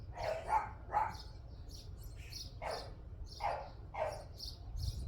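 Dogs bark repeatedly at a moderate distance, in uneven bursts of one or two barks each, with faint bird chirps and a low background rumble between them.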